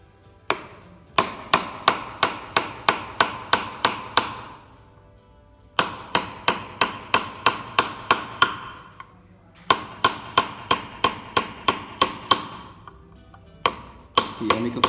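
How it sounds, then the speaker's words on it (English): Hand carving of a freehand design into a wooden Tarkashi craft box: bursts of sharp, evenly spaced taps, close and crisp, in three runs separated by brief pauses. "Just a freehand I carve design on here."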